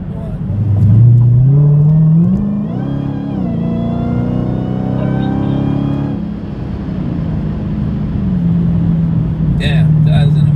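Dodge Demon car accelerating hard near a town, a loud close engine roar climbing in pitch through gear changes, then settling into a steady drone, with a voice speaking over it.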